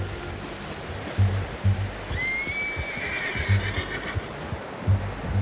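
A horse in Red Dead Redemption 2 gives one clear whinny midway, over heavy hoof clip-clops and a rushing, stream-like ambient bed.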